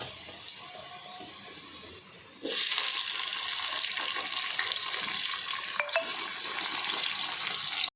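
Onion and tomatoes fry in a pan for a Nellore-style fish curry, a steady close sizzle that jumps louder after two seconds as tomatoes hit the oil, with occasional stirring scrapes and no talk.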